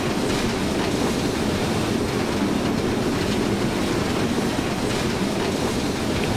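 A BR86 steam locomotive rolls into a station at about 40 km/h in Train Simulator 2019, with a continuous loud rumble of rolling wheels and rhythmic rail clatter throughout, no voices.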